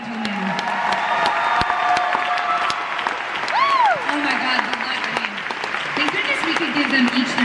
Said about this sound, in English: another huge round of applause for these two very tall gentlemen